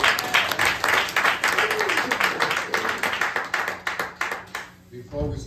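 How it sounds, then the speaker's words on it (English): A church congregation claps their hands in praise during a worship service, a dense, sustained round of crowd clapping with voices mixed in, fading out near the end. "Let's give the Lord a hand clap and praise."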